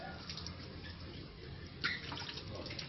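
Hands being washed under running water outdoors, a soft steady splashing trickle with a brief louder splash near the end, faint and without talk.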